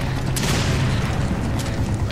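Low, rumbling game explosions roll on continuously, ending in a sharper, louder blast at the very end, in the video game Resident Evil 5: A Desperate Escape.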